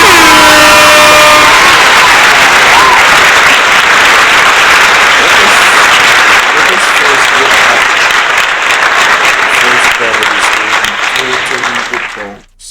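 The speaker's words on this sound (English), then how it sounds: "let's give this man a round of applause before we even begin" Loud, sustained crowd applause at a Jamaican political rally, joined by blaring air horns at the start and cheering throughout, dense and close before fading abruptly at the end.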